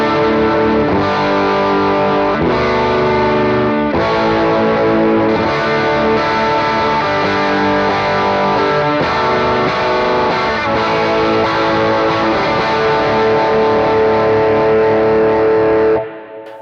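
An Epiphone Sheraton electric guitar through Lambertones pedals, with overdriven, distorted tone, plays strummed chords in a steady rhythm, loud and close, ending abruptly.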